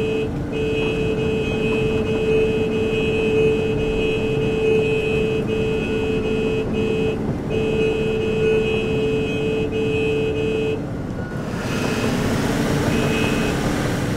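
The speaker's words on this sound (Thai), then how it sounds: "เสียงนี่เป็นเสียงแคทเลยนะครับผู้ชมผมก็นึกว่าคันเดียวกันเลยอ่ะ" A Caterpillar excavator engine in the Construction Simulator video game drones steadily with a constant hum and a high whine, continuous and close, shifting in tone near the end.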